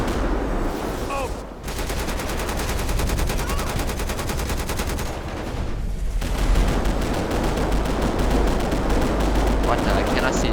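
Continuous loud gunfire in Grand Theft Auto V, rapid automatic bursts packed densely across the whole stretch with only a brief dip, close and dominant throughout.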